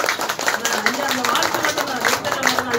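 An audience claps for a guest at a travel company's grand launch event in Kodambakkam, a steady, moderately loud patter of many hands that runs throughout.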